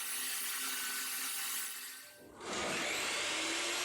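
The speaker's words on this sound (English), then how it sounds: "I started by ripping a whole bunch of MDF." A saw rips through MDF boards with a loud, steady roar that dips briefly between cuts and then resumes at full strength.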